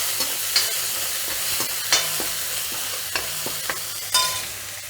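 Garlic fries in hot oil over a lowered flame for Manchurian, giving a soft, constant sizzle broken by several sharp scraping clicks as a spoon stirs the pan, close up with no talking.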